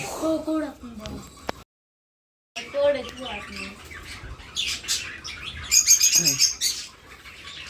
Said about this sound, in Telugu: ఇక్కడైతే ఇవన్నీ లవ్ బర్డ్స్ ఉన్నాయండి లవ్ బర్డ్స్